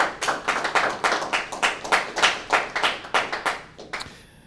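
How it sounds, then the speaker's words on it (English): Clapping at a graduation ceremony for the graduates' families and friends, a sparse, uneven run of distinct claps from a small group, close and fairly loud, stopping abruptly near the end. "let's give them, graduates, a round of applause for helping you"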